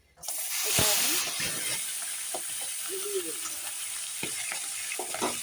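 A large katla fish head frying in hot oil, a sudden loud hiss that settles into a steady bubbling sizzle with occasional spatter pops and a utensil scrape, close by.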